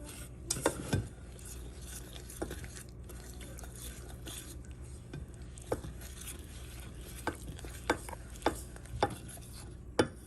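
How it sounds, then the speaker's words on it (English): A whisk stirs sugar-free frosting mix in a pot on a stove over low heat, giving soft scraping and repeated light metallic clinks against the pot, quiet and close with no talk. "Now I'm gonna turn the stove on low and just start stirring it with a whisk."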